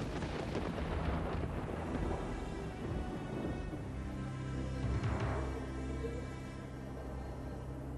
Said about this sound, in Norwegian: Da Theodor endelig nådde vika, herjet stormen rasende rundt ham.